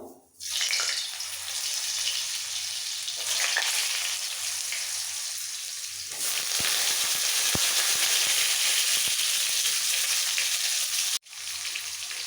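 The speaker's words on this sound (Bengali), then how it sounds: "সবজির মধ্যে সবার প্রথমে দিয়ে দিচ্ছি আলু আলুটাকে আগে একটু ভেজে নেব" Potato pieces frying in hot oil for a vegetarian Malabar spinach dish give a loud, steady broadband sizzle throughout, with a brief drop at the start and a short gap near the end, plus a few faint clicks.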